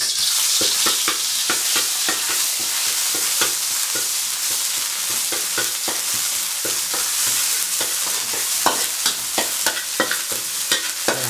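Pounded Thai curry paste of shrimp paste, shallot, garlic and pepper stir-frying in hot oil for pork with pumpkin, a steady loud sizzle broken by frequent sharp spatula scrapes and clacks, with no talking.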